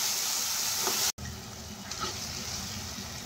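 Masala of tomatoes, green chilli and garam masala sizzling steadily in a pan while it cooks for soya chunks pulav. There is a brief silent cut, then softer frying continues.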